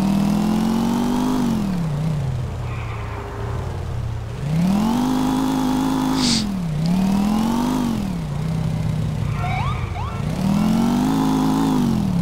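A car engine in Grand Theft Auto IV drones steadily at close range, its pitch rising and falling in repeated swells as the vehicle accelerates and eases off, with no talking.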